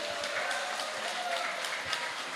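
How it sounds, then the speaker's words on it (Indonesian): Applause from an outdoor public meeting crowd in Pontang, Indonesia, a steady, dense patter of many hands clapping, moderately loud and continuous for a couple of seconds with faint voices mixed in. "tepuk tangan untuk Bung Misri sekali lagi."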